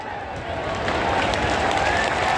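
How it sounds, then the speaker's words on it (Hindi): An audience at a public tree-planting event claps to welcome the chief minister, a dense, continuous wash of applause that swells slightly midway, with a crowd murmur beneath. "आप सब तालियों के प्रणाम से एक बार स्वागत करें"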